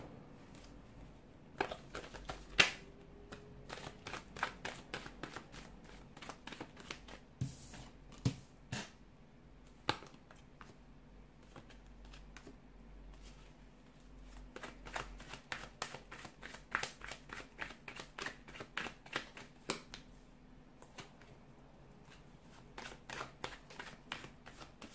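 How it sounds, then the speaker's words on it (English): Tarot cards are shuffled softly and steadily, a long run of quick riffling flicks and taps, close by and quiet, with no talking. "give the cards a shuffle"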